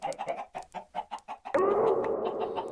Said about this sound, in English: We have a box of chickens over here